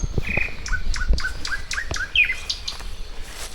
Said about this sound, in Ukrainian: Сюди треба було заїхати, щоб послухати тільки отак як співа Соловей